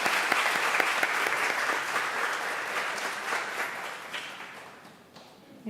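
A round of applause from students after a class presentation, lively and close at first, then thinning and tapering off toward the end.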